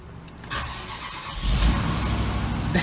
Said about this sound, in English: I'm not sure if it still has enough juice to crank her over.